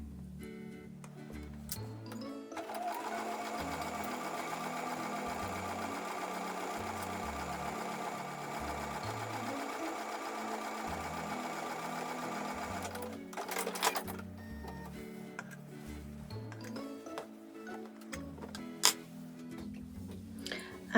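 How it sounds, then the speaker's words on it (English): A sewing machine runs a steady, continuous stitch for about ten seconds, sewing a quarter-inch seam on a card trick quilt block. It starts and stops abruptly, with light clicks and handling noises around it. "I'm now going to take those over to the sewing machine and sew with a 1/4 inch."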